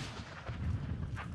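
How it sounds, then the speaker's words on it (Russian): Sappers set off 400-gram TNT charges beside unexploded artillery shells in Donbass, heard as a distant, muffled blast with a low, rolling rumble that lingers across the whole stretch, with no voices. "Рядом с боеприпасами укладывают 400-граммовые тротиловые шашки."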